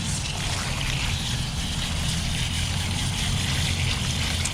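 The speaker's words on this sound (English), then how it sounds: "Here to rinse out another onesie" Running water rinses a tie-dye onesie, a steady splashing flow with a broad hiss that stays even and close the whole time.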